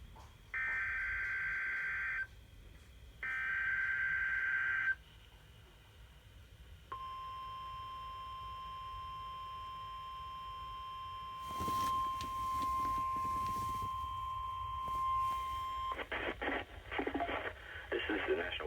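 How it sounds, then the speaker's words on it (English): NOAA Weather Radio all-hazards weekly test from the National Weather Service office in Tulsa: two short bursts of harsh digital data tones, a pause, then a long steady single-pitch warning tone for about nine seconds, followed by a voice and more data noise. "The preceding signal was a test of the NOAA Radio All Hazards Public Warning System"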